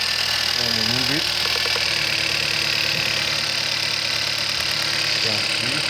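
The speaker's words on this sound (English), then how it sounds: "We're gonna show you the misfire." Car engine idling with a cylinder misfire, a steady close-up mechanical drone with an uneven, faintly knocking pulse, while someone talks over it.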